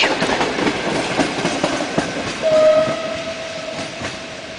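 The Berlin-Warszawa Express arriving at a Warsaw station, delayed and hauled by an EP07 electric locomotive, with rolling rail noise and wheel clatter, a sustained horn tone midway, loud and near.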